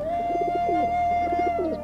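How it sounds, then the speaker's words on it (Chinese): Pigeons coo close by in soft, repeated rolling phrases over a steady faint background tone, with no talking. "看这些鸽子"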